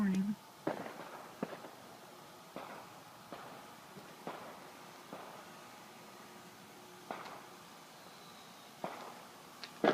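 Victoria Day fireworks and firecrackers going off around a neighborhood at night, scattered sharp pops and bangs at a distance, irregularly spaced over a steady outdoor background hiss.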